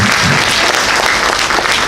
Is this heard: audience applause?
yes